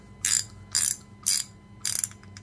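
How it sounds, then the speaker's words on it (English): A Hornet USA 1/2 inch ratchet clicks through four short, evenly spaced bursts of rapid pawl clicking, crisp and close in a quiet room. "Not fine tooth, but it's not ridiculously coarse. Certainly sounds good enough."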